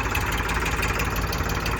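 An Indofarm 45 hp tractor with a Simpson engine and 13-inch tyres idling, a loud steady low diesel rumble with a fast even throb, close by and alone.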